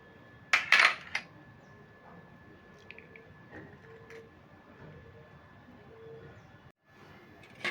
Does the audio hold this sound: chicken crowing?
no